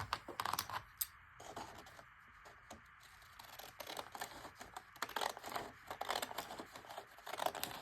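Small scissors snip paper in quick, irregular clusters while fussy cutting for a collage page, near and crisp, with short pauses and rustling between cuts and no talking.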